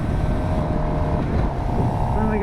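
A Suzuki GSX-R750 fitted with an Annitori quickshifter is being ridden, its engine droning loud and steady under heavy wind rush for the whole stretch.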